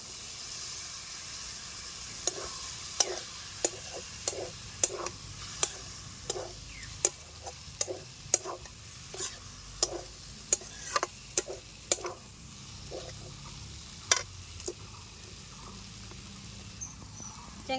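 Small cheng fish fry, freshly washed, are sautéed in oil and spices, with a soft background sizzle broken by irregular sharp ticks and taps from stirring.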